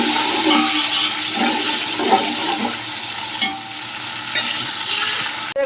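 Ginger garlic paste fries with garam masala in a pot of oil for biryani, giving a loud, steady sizzle close by. Stirring scrapes and clinks sound now and then, and no one speaks.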